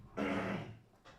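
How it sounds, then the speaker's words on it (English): A single throat clearing, close and fairly loud, one rough rasp of about half a second followed by a softer short grunt, with no talking around it. "Let me clear my throat."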